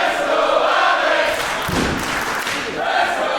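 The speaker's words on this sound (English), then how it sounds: "Nina's just targeted that spine, sending Alex into the turnbuckles." At a wrestling show at the Clapham Grand, a wrestler slams into the ring turnbuckles with one dull thud amid a loud, continuous crowd roar.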